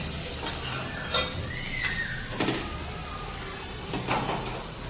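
Mysore dosa batter frying on a hot griddle, a steady sizzle running throughout with a few sharp scraping and clinking accents from a spatula, close and moderately loud, no voices.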